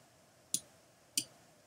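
A computer mouse clicks twice in a quiet room, two crisp close clicks roughly half a second apart against a faint steady hum.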